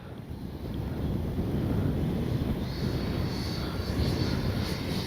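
Steady, loud wind buffets the microphone outdoors while a Freewing F9F-8 Cougar 80mm RC jet flies in gusty conditions, a constant low rumble with a faint turbine whine rising underneath.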